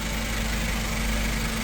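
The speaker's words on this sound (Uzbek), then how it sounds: "qarang buni motorning ishlashini" A 2025 Hyundai Porter truck with an automatic gearbox and a turbo engine idles nearby in a steady, even, low hum with a constant drone that holds without change.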